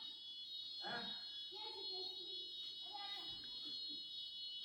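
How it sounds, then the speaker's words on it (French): A building fire alarm sounds continuously as a steady high-pitched tone, loud and unbroken, while people talk in French beneath it. "quand l'alarme sonne, il faut que tout le monde sorte"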